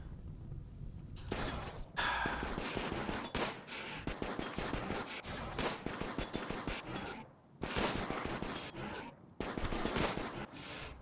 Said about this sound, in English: why is the AI allowing it to stand there and fire?